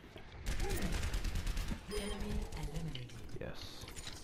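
Rapid gunfire in the team shooter Overwatch rattles in quick bursts near and loud, mixed with game effects and tonal chimes, while a player talks over the shooting.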